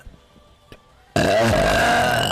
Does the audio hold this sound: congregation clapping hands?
no